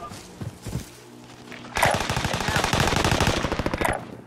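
Rapid automatic gunfire in the video game Warzone, a loud sustained burst of fast shots after a few scattered single shots, close and dominant with no talk over it.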